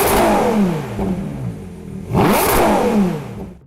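A Ferrari Purosangue's naturally aspirated front-mid V12 revs twice, rising to a high-pitched wail, dropping back, then surging again in a second sharp climb, loud and close with no voices.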